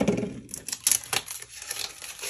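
Nonstick scissors trimming Mako sticker paper, a few short crisp snips and papery crinkles close by, with no talking.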